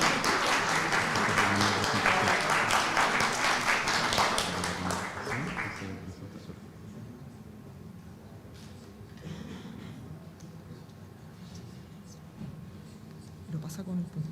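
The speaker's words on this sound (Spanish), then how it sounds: "un aplauso" An audience at a climate change study presentation gives a burst of applause lasting about six seconds before fading into a quiet room where people murmur and speak.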